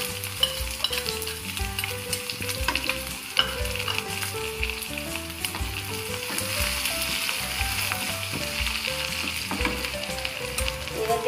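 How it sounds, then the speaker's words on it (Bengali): Onions hiss and sizzle steadily in hot oil that has just been tempered with cumin seeds, with a spatula stirring and scraping in a loud, continuous fry from start to finish. "জিরে ফোড়ন দিলাম, এবার দিলাম পেঁয়াজটা"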